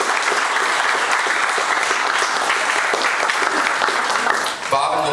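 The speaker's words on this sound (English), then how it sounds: "if we can get a round of applause for Agnes and anybody else that helped get this place set up" Wedding guests applaud during a best man's speech at a reception; steady, close, continuous clapping fills nearly the whole stretch, dipping briefly just before the end.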